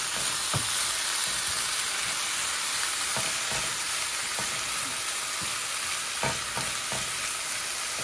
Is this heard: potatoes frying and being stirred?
yes